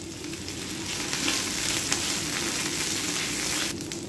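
Green chilies and ten to twelve curry leaves frying in hot oil for Chicken 65, a dense, loud, continuous crackling sizzle that holds steady throughout, close up and with no voices.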